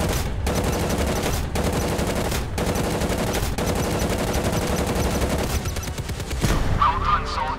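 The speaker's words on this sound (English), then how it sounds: "Switch to machine guns to fight against enemy aircraft." A tank's machine gun firing in the MWT: Tank Battles mobile game, a steady loud rattling stream broken by short pauses roughly every second, with a tonal game effect near the end.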